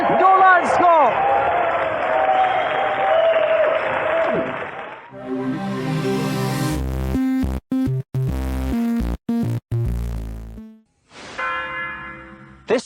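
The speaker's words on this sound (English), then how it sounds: "Round of applause, ladies and gentlemen, for our 3 planks." A television game show studio audience breaks into applause and cheering, loud and sustained, before bright synth music and jingle hits take over.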